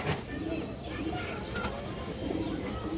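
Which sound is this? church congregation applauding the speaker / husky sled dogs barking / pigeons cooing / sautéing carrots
pigeons cooing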